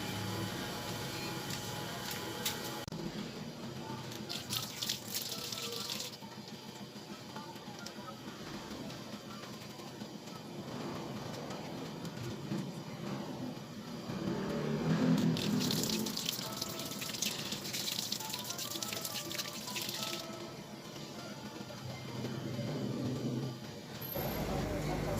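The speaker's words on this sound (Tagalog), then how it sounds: "Then close the bag without locking it and perform hand washing." Hands being washed with soap under a running tap during a community health nursing bag technique demonstration, a steady close wash of flowing water with brief louder splashes midway and near the end.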